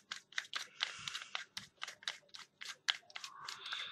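A small threaded part of a Helios camera lens is screwed back in by hand, making a quiet, rapid series of close, dry clicks and ticks.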